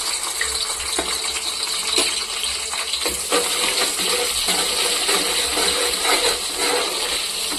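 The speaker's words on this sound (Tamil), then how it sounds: "ஒரு பெரிய சைஸ் வெங்காயம் போட்டுக்கலாம்." A large onion drops into hot oil and ghee in a pan, setting off a steady, close sizzle with scattered crackles and small clatters through the whole stretch, with no talk.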